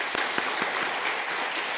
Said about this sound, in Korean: 먼저 같이 한번 하나님께 감사의 박수 드리겠습니다.